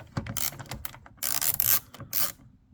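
A ratchet backs out a T30 trim screw on a Jaguar XK (X150) cabin panel, giving rapid close-up clicking bursts in short uneven runs with brief pauses between them, no talk.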